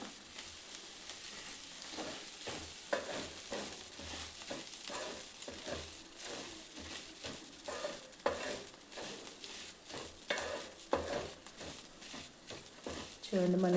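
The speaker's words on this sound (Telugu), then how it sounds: "ఇప్పుడు వీటిని బాగా మిక్స్ చేసుకుందాం." Okra fry being stirred with chili powder and coriander-cumin powder in AMC cookware, giving continuous scraping and light sizzling with rhythmic spoon strokes while a voice talks over it.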